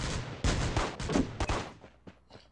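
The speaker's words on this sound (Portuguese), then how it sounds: "Tiro de pistola, granada, tiro de 12, tiro de AR." Gunfire in the battle royale game Rules of Survival, a rapid cluster of sharp shots and bursts from several weapons, dense at first then thinning to scattered distant cracks.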